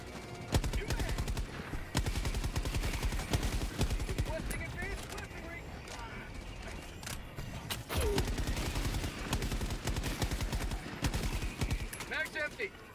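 Rapid bursts of gunfire from Helldivers 2 rattle on almost continuously and loudly, with a short lull near the middle before the shooting resumes, while voices talk throughout.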